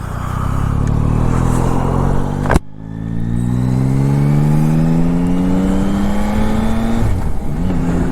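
A Yamaha Tracer GT9+ motorcycle riding off, its engine loud and close, rising through several gear changes with climbing revs after a brief cut.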